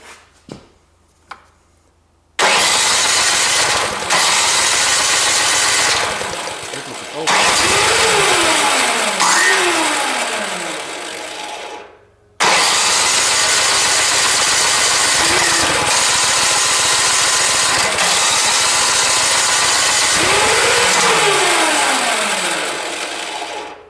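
A new snow blower with a fuel-related hard-starting problem takes a couple of quick pull clicks, then roars to life loud and close. It revs up and down a few times, cuts out briefly, then restarts and runs steadily.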